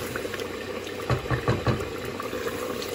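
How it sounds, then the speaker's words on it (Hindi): Meat fries in a pot after its water has cooked off, giving a steady close sizzle and crackle with a few louder bursts of bubbling and spitting partway through. "गोश्त को भून रही हूँ मैं, पानी सूख गया अच्छी तरह"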